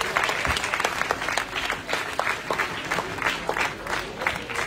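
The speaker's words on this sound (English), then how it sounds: "Please have a huge round of applause for the team SatyaBharat." A crowd at the Government of India Toycathon 2022 in Noida applauds the winning team, steady, dense clapping with individual claps popping through, moderately distant and continuous.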